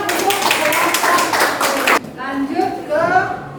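Brief applause from an audience at the close of a classroom presentation, a burst of clapping lasting about two seconds before it cuts off and people begin speaking.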